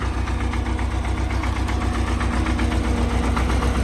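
A YuMZ tractor engine runs after warming up, a loud, close diesel idle with a steady rapid knocking pulse and rattling vibration throughout.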